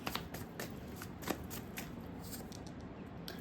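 A deck of tarot cards is shuffled by hand at close range, a continuous run of crisp riffling and flicking card sounds with small snaps, steady and fairly quiet with no talking.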